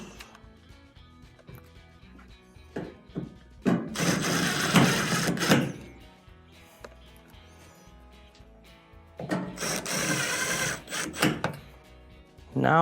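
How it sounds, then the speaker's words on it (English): A power driver reinstalls the three front screws on a GE washer during a leaking-hose repair, whirring in two loud bursts of a few seconds each, separated by quieter handling noise. "Now we can reinstall the 3 screws on the front."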